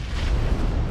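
A grenade explodes in the battle royale game PUBG Mobile during a tournament match, a broad, rumbling blast heard at a distance that rolls on through the second.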